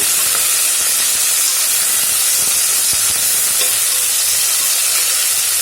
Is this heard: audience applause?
no